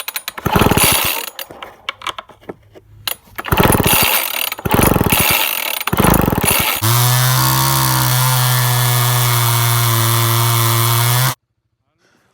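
A vintage top-handle chainsaw, running again after a spark fault was fixed, revs in several loud bursts, then holds a steady high-pitched idle for about four seconds before cutting off abruptly into silence.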